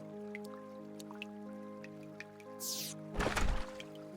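In a modded Terraria game, water pours in through side doors of a temple: a soft rushing swish, then a louder watery splash burst, set over sustained chiming game music with small plinking notes.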